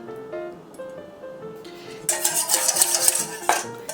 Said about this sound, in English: Give it a stir until the milk and the oil mix together